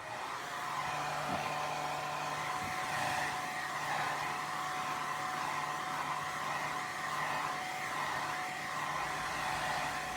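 A hair dryer blows over a watercolor painting to dry the paint, a steady close whirring roar with a faint hum beneath that holds level the whole time, with no voices.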